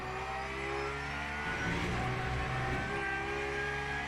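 A GT3 race car engine drones steadily at Fuji in the Le Mans Ultimate racing game, with layered harmonic tones that dip and rise as the car brakes and accelerates, continuous and fairly loud throughout.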